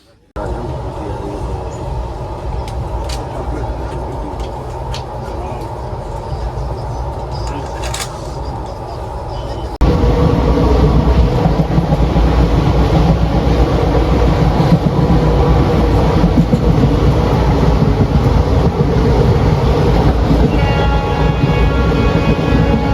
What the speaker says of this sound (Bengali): এই ট্রেন সুলতানপুর যেতে এক ঘন্টা তিরিশ মিনিট মতো দেরি করে চলছিল